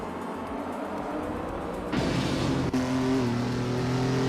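1960s race cars, including a 1964 Austin Mini Cooper S, drone loudly at the Ricardo Tormo circuit. A steady engine roar surges and shifts pitch midway as revs climb, with no voices.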